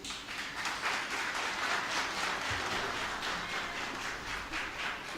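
Sustained, even applause from a hall audience at a Washington gathering with Chad's ambassador, a steady wash of many hands clapping without letting up.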